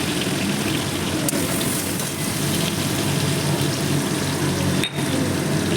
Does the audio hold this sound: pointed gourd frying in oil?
yes